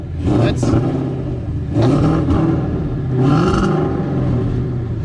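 A Ford Mustang V8 engine with Stainless Works headers, an X-pipe and stock mufflers idles loudly nearby with a deep, lumpy burbling rumble that swells slightly a few times.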